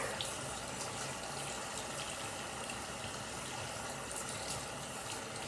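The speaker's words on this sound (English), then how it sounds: "I take water, cup it, and just splash my arm" Water is cupped and splashed onto an arm, giving a continuous close wet rush and spatter from running water at steady volume, with no talking.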